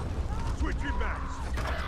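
Short mechanical clatter of a magazine being swapped in a Call of Duty Warzone-style shooter, with clicks and ratcheting metal over a busy game background.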